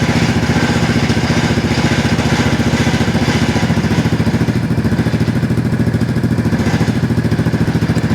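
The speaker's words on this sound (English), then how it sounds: "actually I will start the scooter" A Vespa GTS 250 scooter engine running at idle close by, a loud, steady, rapid single-cylinder putter with a mechanical clatter that holds an even beat throughout.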